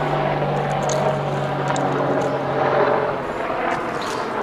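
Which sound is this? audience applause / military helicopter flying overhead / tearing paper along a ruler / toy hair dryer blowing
military helicopter flying overhead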